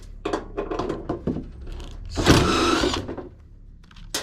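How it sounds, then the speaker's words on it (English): Impact driver stripping screw heads on a gas hob during scrapping, short rattling bursts followed by a longer loud hammering whir, close up, no talking. "the torque from this impact driver is stripping the heads clean off"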